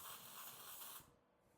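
Spray from an aerosol can hisses steadily onto a golf club face for about a second, close and fairly loud, then cuts off and leaves only quiet room tone.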